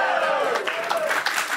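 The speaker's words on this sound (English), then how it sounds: "I love that that got the applause." Studio podcast audience breaks into applause, a steady wash of clapping and crowd noise lasting a second or two, with faint voices mixed in.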